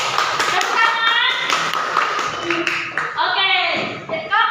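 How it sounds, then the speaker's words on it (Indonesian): Schoolchildren in a classroom give a group's presentation a round of applause. The steady, brisk clapping continues for several seconds while children's voices chatter and call out over it. "tepuk tangan untuk kelompok Angela."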